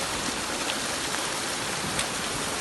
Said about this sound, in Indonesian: Ini kondisi hujan sudah agak reda